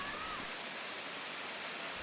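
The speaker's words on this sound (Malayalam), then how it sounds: "പാലൂർ കോട്ടയിൽ പോകുമ്പോൾ ഫസ്റ്റത്തെ വെള്ളച്ചാട്ടമാണ് ഈ കാണുന്നത്." Paloor Kotta waterfall in Malappuram, Kerala, gives a steady, dense rush of falling water, broad and hissing, unbroken and alone for the whole moment.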